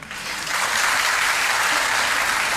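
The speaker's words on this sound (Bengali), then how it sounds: "হ্যাঁ, হাততালি দেওয়ার কিছু নেই" Listeners at a talk by Swami Sarvapriyananda break into applause that swells within the first half-second, then holds as a loud, dense, steady patter of many hands.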